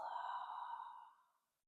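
A single long, soft exhale during yoga breathing, close and breathy, fading smoothly into silence over about a second and a half.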